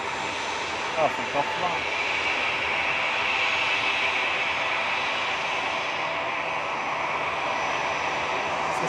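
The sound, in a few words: EasyJet airliner departing at Manchester Airport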